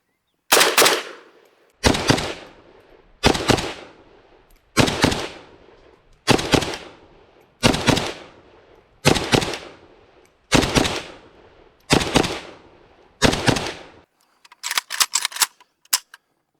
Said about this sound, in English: We're going to fire 2 shots into the A zone of each target, transition back and forth.